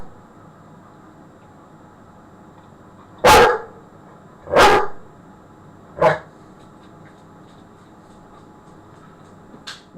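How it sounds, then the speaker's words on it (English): A dog barks three times, sharp and fairly close, with short pauses between barks over a quiet background hum. "What are you barking at?"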